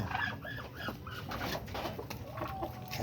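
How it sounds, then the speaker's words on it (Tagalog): Soft pigeon coos repeat over a steady background of bird chatter and faint farmyard noise, close by with no talking. "Ito yung kalapati. Gutom na."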